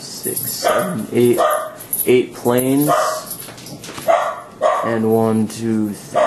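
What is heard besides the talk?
dogs barking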